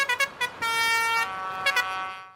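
Tractor horns honk at a farmers' protest on the streets of Paris, with short blasts, then a long sustained blare and two more quick honks, fairly loud over a street background.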